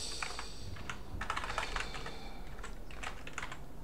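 Typing on a computer keyboard that is acting up with a bug, heard as a soft, uneven patter of key clicks in short bursts and pauses over a faint background hiss, with no speech.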